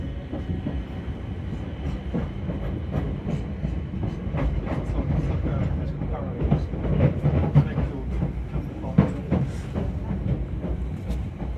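Steady rumble of a Class 455 electric train rolling along the rails near Wimbledon with rhythmic clicks and clatter, heard from inside the carriage, continuous throughout.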